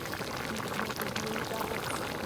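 Thick coconut milk being boiled down over a wood fire to render coconut oil, a constant dense bubbling and sputtering that runs without a break for the whole stretch, with no talking.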